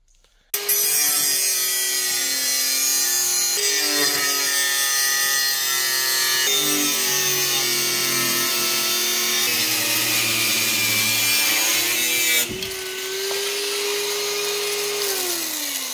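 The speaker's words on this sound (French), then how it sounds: "on va y foutre un coup de meuleuse, on va dégager ça" An angle grinder cuts welded parts off a Suzuki Samurai chassis, giving a loud, continuous high-pitched whine that shifts pitch as the disc bites into the metal. It dips briefly before restarting near the end, with no talk.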